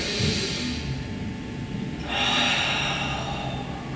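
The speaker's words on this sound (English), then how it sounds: "Breathe in." A long, deep inhaled breath taken during a floor stretch, with a second strong breath swelling loud and close, no talking.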